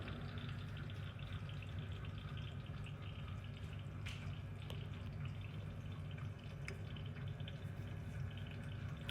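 Water trickles and drips through an Epic Water Filters Pure pitcher filter, a faint, steady patter with occasional sharper drops, heard close and alone.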